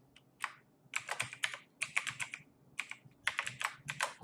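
Typing on a computer keyboard while entering a password, with irregular bursts of crisp key clicks separated by short pauses, close and moderately loud with no voices.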